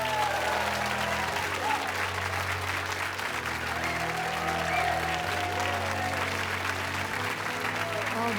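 Studio audience applauding, a steady, sustained clapping that fills the room evenly for several seconds, with faint talk-like murmurs and musical tones underneath.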